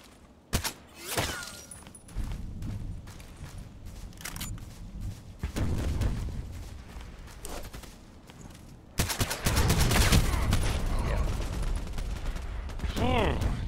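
An SKS sniper rifle in a first-person shooter fires shot after shot in quick succession, with sharp cracks between quieter gaps and dense shooting toward the end.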